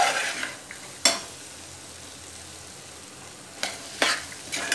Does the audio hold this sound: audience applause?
no